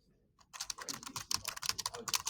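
Rapid typing on a computer keyboard, a steady run of close, crisp key clicks starting after a brief quiet moment, with no voices.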